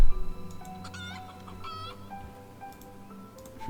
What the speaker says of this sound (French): Ouais, il y a un coq, c'est bon.